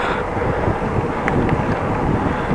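Steady, loud wind buffeting a camera mounted on a Dutch bike riding in 34 °C heat, a continuous broadband rush with no pauses and no talking.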